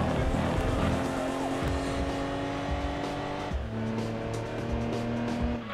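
A front-wheel drive race car in the video game Gran Turismo 2 holds a loud, steady engine drone, with a brief dip like a gear change midway before the revs pick up again, and faint tire noise underneath.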